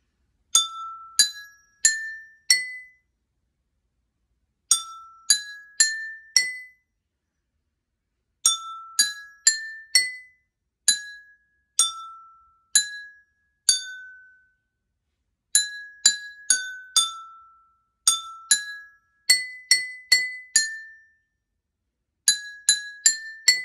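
Water-filled drinking glasses tuned as a homemade xylophone are struck one note at a time, playing a clear, ringing melody in short phrases separated by brief silences, with no voices.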